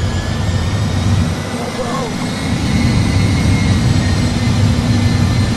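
Aircraft jet engines spool up to takeoff thrust, a loud, steady broadband roar that swells slightly partway through and holds without pause.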